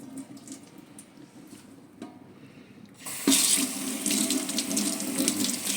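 A kitchen tap hisses faintly at first, then bursts into a loud, steady rush of running water as a cleaning cloth is rinsed under it after tiles are wiped. No voices are heard.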